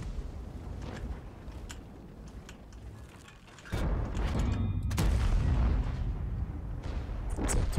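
A tank cannon shot in World of Tanks, fired from a VK 45.02 A, lands as a sudden heavy boom midway through, with loud rumbling battle noise rolling on after it over quieter mechanical background.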